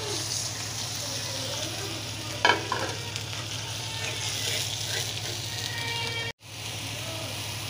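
Fish frying in a pan while being stirred, with a continuous oily sizzle, brief scraping stir sounds partway through and a short cut near the end.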